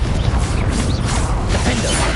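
The Confringo fire spell is cast in Hogwarts Legacy, a loud, dense burst of whooshing, crackling magic with mechanical creaks, filling the whole short moment.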